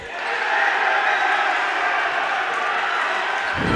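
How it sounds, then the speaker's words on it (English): A student section cheers at a boys and girls high school basketball double header, a dense, loud, sustained crowd roar filling the gym without a break. "Student section is all cheering for"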